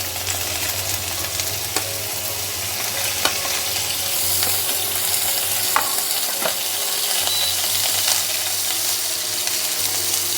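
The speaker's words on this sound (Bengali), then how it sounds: "গাজরগুলো একদম হালকা একটু ভেজে নেব, বেশি ভাজার দরকার নেই।" Thin-cut carrot strips fry lightly in oil with a steady, even sizzle, and a few brief clinks and scrapes of stirring come through now and then. No one speaks.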